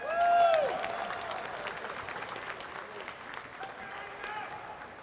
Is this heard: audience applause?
yes